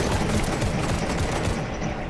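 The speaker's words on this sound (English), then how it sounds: "Queen shooting at somebody." Dense, rapid gunfire rattles on without pause for about two seconds, loud and close, as a volley of shots fired at someone, with no voices over it.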